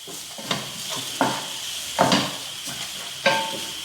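Food sizzles steadily in a pan while a spoon stirs and scrapes against the metal in sharp, irregular knocks, several strokes over a continuous hiss.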